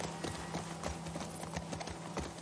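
Horse hooves clip-clopping in the video game The Last of Us Part II, a steady walking rhythm of hoofbeats heard up close over a soft ambient game background.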